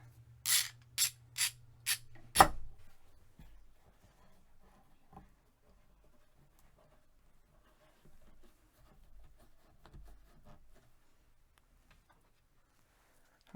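A small clamp is ratcheted tight onto a guitar neck being glued in, five crisp evenly spaced clicks in quick succession, close by, followed by faint handling noises and near silence.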